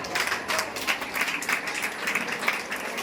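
Audience applause at a local event in Varanasi, a dense, steady patter of many hands clapping at moderate loudness throughout, with no clear voices over it.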